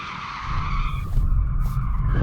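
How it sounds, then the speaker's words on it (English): A BMW M8 in rear-drive-only mode spins its tyres to warm them, a loud continuous squeal and skid over a steady low engine roar, sustained and close throughout. "Before we race, we should probably warm up the tyres."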